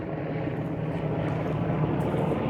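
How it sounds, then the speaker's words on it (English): Military helicopters fly overhead during training maneuvers near a base, producing a steady, even airborne drone that hangs in the background for the whole stretch with no one speaking. "Apologize again about the helicopters."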